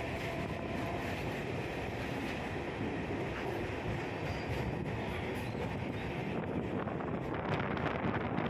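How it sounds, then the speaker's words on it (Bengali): A Kolkata Circular Railway train runs with a steady, loud rumble, its rolling noise mixed with heavy wind buffeting throughout, no voices present. "আমাদের ট্রেন বাঁদিকে টার্ন নেবে"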